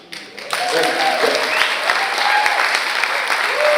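A crowd cheering and applauding at a political talk event, loud dense clapping with shouts and whoops that swells in after a brief quiet start and stays strong throughout.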